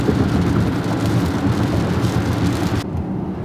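Rain arriving on a car driving toward Seattle, a steady dense hiss of drops on the vehicle mixed with road and engine rumble, continuous and fairly loud, cutting off abruptly near the end.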